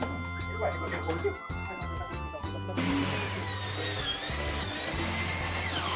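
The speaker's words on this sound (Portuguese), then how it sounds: "Aqui eu vou aproveitar e colocar um parafuso longo e vai ser possível prender logo os dois lados" A power drill driving a long screw into a wooden frame, with a steady whining motor that starts midway and continues loudly beneath a man's speech.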